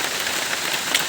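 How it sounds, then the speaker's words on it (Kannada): Heavy rain pours at Nisargadhama nature park in Kushalnagar, a dense, steady hiss heard up close with no one talking. "ಮಳೆ ಫುಲ್ ಜೋರು ಮಳೆ."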